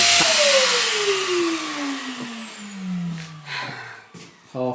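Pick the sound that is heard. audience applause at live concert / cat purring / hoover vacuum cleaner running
hoover vacuum cleaner running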